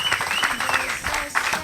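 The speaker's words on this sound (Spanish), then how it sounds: "Ese aplauso es para el Señor." Church congregation applauding after a testimony, a steady wash of clapping filling the whole moment, fairly loud and continuous with no clear pauses.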